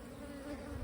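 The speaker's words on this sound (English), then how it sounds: "They still have a lot of bees" Honey bees buzz at an open hive in a steady, close, low droning hum that holds without a break. No voices are heard.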